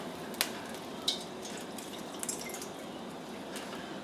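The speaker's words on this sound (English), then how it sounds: "I'm going to drain some of this grease off." Grease being drained from a pan after searing round steak comes through as a soft, steady trickle with a few sharp drips and spatters on top.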